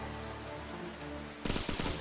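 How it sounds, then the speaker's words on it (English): Machine gun fire in the video game Airship Dragoon, a low rumbling game backdrop that gives way near the end to a loud rapid burst of crackling automatic shots. "Where's he got that machine gun?"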